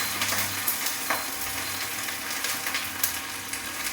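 Green chili frying in hot oil in a pan for a mushroom curry: a steady, close crackling sizzle with scattered pops and a few stirring scrapes, no talking.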